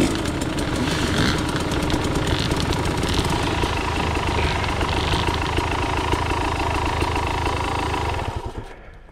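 A motorcycle engine idles steadily and loudly for about eight seconds at close range after a track riding session, with a constant low rumble and no talk, then shuts off near the end.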